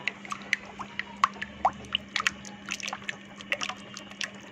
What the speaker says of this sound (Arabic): وبعدين احط الكريمه اللباني